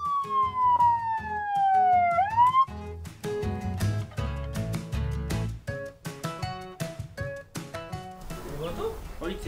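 A police siren wails and sweeps in pitch, followed by loud, choppy bursts of sound and voices, with the siren fading into clutter.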